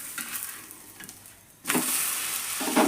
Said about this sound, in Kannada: ನಾ ಎಣ್ಣೆ ಮುಚ್ಚಂಗಿಲ್ಲ, ಹಂಗನ ಸುಡ್ತಾವೆ ನೋಡ್ರಿ